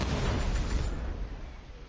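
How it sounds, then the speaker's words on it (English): A deep, rumbling explosion booms in The Division 2, its low roar loud at first and then fading out over a couple of seconds. "Like, that's a lot of explosions."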